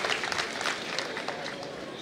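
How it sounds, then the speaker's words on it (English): Crowd applause at a university graduation ceremony, a brief steady wash of clapping from a large audience, moderately distant, with some voices mixed in. "Please clap for Hassan."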